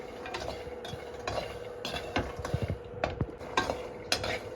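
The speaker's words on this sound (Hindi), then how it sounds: "ये मखानों को मैं थोड़ा मीडियम गैस पे धीमे धीमे भूनूंगी" Makhana fox nuts are roasted slowly in a pan over medium heat and stirred, producing quiet irregular clicks, taps and light rattles against the pan with faint sizzle.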